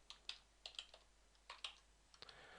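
A computer keyboard clacks under quick, close fingers, with irregular bursts of crisp key presses and short pauses between them and no voices.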